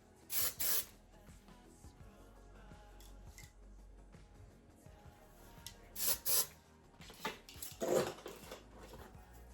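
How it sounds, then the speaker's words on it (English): Several short, loud hissing bursts of hair wax spray, some in quick pairs, separated by quieter rustling and handling noise. "Applying more of the wax spray as I'm working through the hair."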